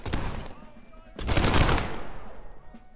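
Musket volley fire in the video game Prime & Load 1776, a burst of overlapping gunshots, a brief lull, then a louder, denser rolling volley that slowly dies away.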